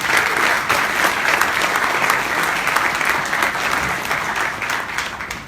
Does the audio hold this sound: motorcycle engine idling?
no